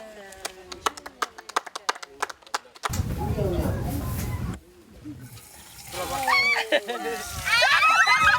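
Fresh tap water from a newly installed village supply gushes and splashes loudly in bursts, with sharp clicks and nearby voices beforehand and people talking over the later splashing.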